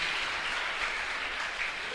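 Church congregation applauding during a sermon, a continuous, even wash of many hands clapping together with no voices over it.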